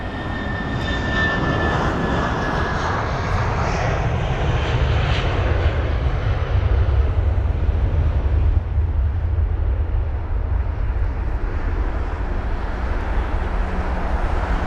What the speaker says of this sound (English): That was a British Airways A320 CEO, or 200 in case you're wondering.